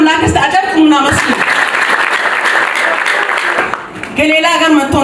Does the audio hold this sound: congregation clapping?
yes